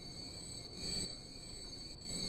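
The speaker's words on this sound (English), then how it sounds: "the squeaking brakes of the trains are so annoying" Train brakes squeak in the Transport Fever video game, a thin high-pitched squeal ringing continuously over a low rumble, faint and alone with no talk.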